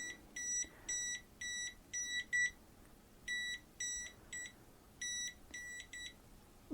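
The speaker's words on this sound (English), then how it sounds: "the unit is giving false reading because there is not any cable here with voltage, but it's showing the alarm" A Kaiweets HT206D clamp meter gives a false voltage alarm with no live cable nearby: rapid electronic beeps in quick groups of two and three, high-pitched and fairly faint, repeating steadily.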